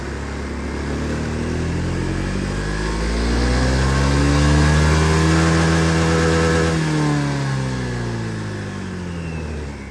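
A Honda Lead JF-45 125cc fuel-injected scooter engine revving with no load, a loud steady drone that climbs in pitch to a sustained high-rpm whine at the middle, then eases back down.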